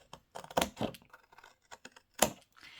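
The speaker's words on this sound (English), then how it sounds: "We're going to take our scissors and cut all the way up to the first line" Scissors snipping paper along score lines for a loaded suitcase craft, a few close, crisp cutting crunches with pauses between them and no voice.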